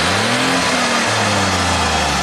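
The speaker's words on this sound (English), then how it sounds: "Now what if we just rev it up?" A Kawasaki side-by-side in low range, with a reduced-speed-mode fault limiting it to about 15 mph, revs up close by. Its steady, loud engine drone holds through a brief dip in pitch and continues alone.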